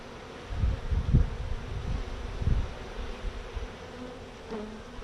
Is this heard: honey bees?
yes